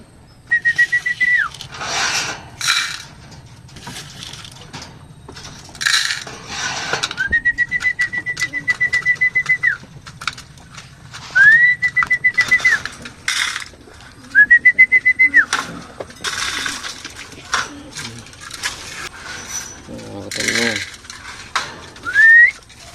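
Flying pigeons coo and make whistling calls in short repeated bursts, mixed with clinks and rustling nearby.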